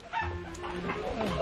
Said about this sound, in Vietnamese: Như gà mình đánh nhau rồi.